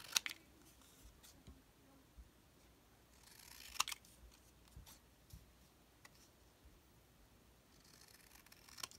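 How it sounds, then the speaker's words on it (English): Scissors cutting out a paper butterfly, a quiet close sequence of small snips and paper rustles, faint and sparse with a few sharper clicks. "So let's just like fussy cut this one out."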